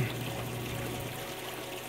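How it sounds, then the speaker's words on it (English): Water draining from the bottom of a backyard aquaponics fish tank, a steady, close trickling and gurgling pour that runs continuously without a break, with a low hum underneath. "I will drain all this water all the way to the bottom"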